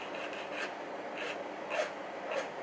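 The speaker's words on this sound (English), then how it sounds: "we've got a bit of filing down to do" A small Hornby Pullman model coach part gets filed down in a quiet room, five or six short, close rasping strokes spaced unevenly with no talk.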